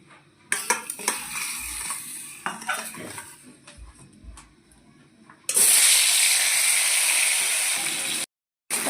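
Whole fish, rubbed with salt and turmeric, going into hot oil in a home kitchen: faint dish and utensil clatter gives way midway to a loud, steady, close sizzle that holds almost to the end.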